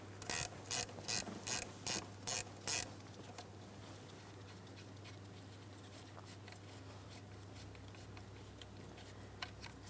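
A ratchet with a 13 mm socket spins off an alternator wire mounting nut on a 2004-2008 Pontiac Grand Prix 3.8L, giving a close, quick burst of about eight crisp clicks followed by near silence.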